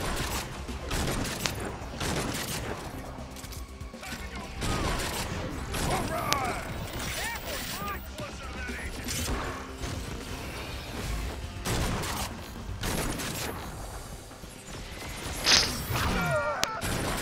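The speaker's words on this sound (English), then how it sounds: "Taking position, charging, firing on the target." Video game weapons fire in a loud, continuous stream of mechanical clanks and rapid bursts, with a character voice speaking over parts of the action.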